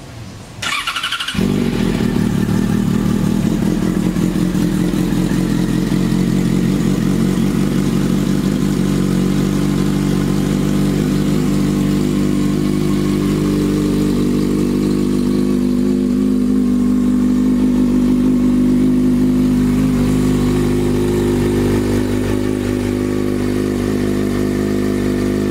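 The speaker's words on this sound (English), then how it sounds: "Let's crank it up and listen to how the exhaust sounds." A 2011 Yamaha FZ6R motorcycle starts up, then its engine and exhaust idle steadily at close range for over twenty seconds, a loud even rumble with a faint high whine and no talking.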